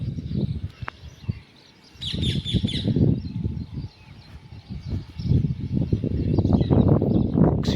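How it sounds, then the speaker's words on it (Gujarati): Morning birdsong on a farm with parrots perched nearby, a mix of chirps, tweets and harsher squawks repeating close by over steady outdoor background noise. "પક્ષીઓનો અવાજ સાંભળો તમે।"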